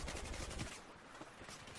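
Rapid P90 submachine gun fire in a first-person shooter video game, a dense burst of closely spaced shots that cuts off sharply, followed by a fainter scattered tail.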